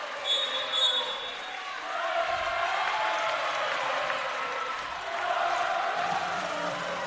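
A volleyball crowd cheers and roars steadily at a women's match, a broad sustained wash of voices that swells in waves without letup.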